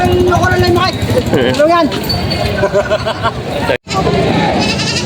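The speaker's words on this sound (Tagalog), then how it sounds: "Ngayon mga talong Stevie, ito na pinakamalaki nakita natin kambing dito" Goats bleat repeatedly, near and loud, at a busy goat market in Padre Garcia, Batangas, with dense crowd chatter and people talking throughout.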